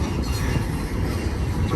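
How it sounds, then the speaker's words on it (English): A BNSF port stack freight train rolls downgrade on main track 2 at Cajon Pass, Southern California, a loud, close, steady rumble with faint wheel rattle and no voices. "It's a port stack train"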